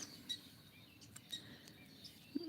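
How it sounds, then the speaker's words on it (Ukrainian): Faint, scattered chirps of small birds at a distance over a quiet outdoor background. "гарні такі милі пташки"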